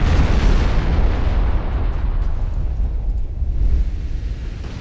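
Heavy battleship main guns firing in the Ultimate Admiral naval game, the Killkrozer's broadside in a ship-versus-ship duel, a dense continuous rumble of deep booms and blasts that stays loud throughout with no talking.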